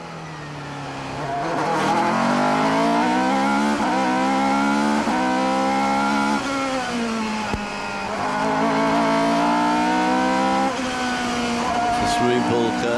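A 2002 Formula 3000 race car with a six-speed sequential gearbox howls around the Monaco street circuit, heard onboard. The engine note climbs and drops sharply through quick gear changes, loud and continuous, with a commentator talking over it.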